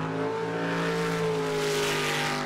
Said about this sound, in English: the revs of the small block Chevy